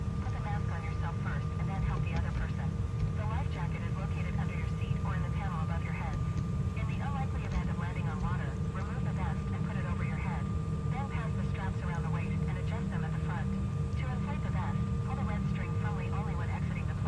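A steady drone of an Embraer E175 engine spinning up, heard from the cockpit, continues under a constant tone and frequent radio-like chatter and talk.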